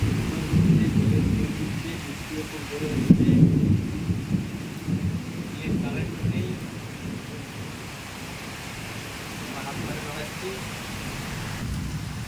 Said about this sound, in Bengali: বৃষ্টি খুব জোরে হচ্ছে